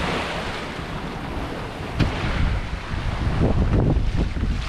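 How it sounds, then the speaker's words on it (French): Sea waves wash steadily around a sailboat under sail with no engine running, rolling surf and hull splashes swelling louder toward the end over constant wind buffeting the microphone. "rien, juste les vagues."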